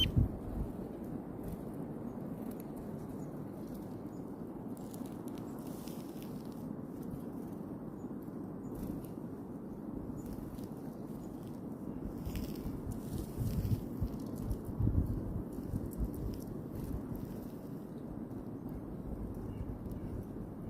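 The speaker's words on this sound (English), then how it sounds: "We just can hear now the sound of the wind through the trees." Wind blows through trees, a soft steady low rushing that swells slightly at times, continuous and fairly faint with no voices.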